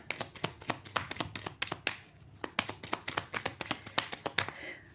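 Tarot cards shuffled by hand in rapid riffling bursts, close and crisp, with a brief pause midway before the rhythmic slaps resume.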